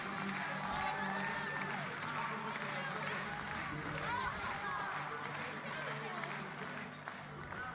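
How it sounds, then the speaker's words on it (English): A large crowd roars and cheers loudly and steadily in the Ijsport Centrum Tilburg ice arena during a short track speed skating race at the European Championships, a dense, sustained wall of excited voices. "As the crowd goes wild in Ijsport Centrum Tilburg."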